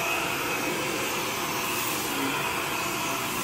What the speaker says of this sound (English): when you have very very fine particles, and then you start to vacuum